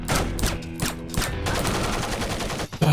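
Gunshots from a mistakenly drawn weapon in a Splinter Cell game, a quick rattling burst of loud shots followed by a sharp cutoff.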